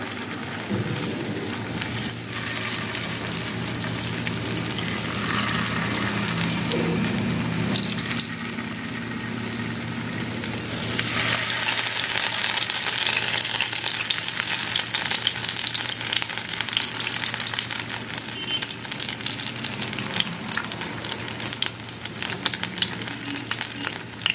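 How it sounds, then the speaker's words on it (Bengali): Chhana bora, cottage cheese fritters, fry in oil in a pan with a loud, continuous crackling sizzle that grows busier partway through. Small pops and spatters keep going throughout, with no voices. "এবার আমি আস্তে আস্তে ছানার বড়াগুলি ভেজে নেব।"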